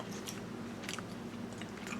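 Close, wet chewing of pan-seared Khaki Campbell duck skin, with a few soft crunching bites over a low steady background hum.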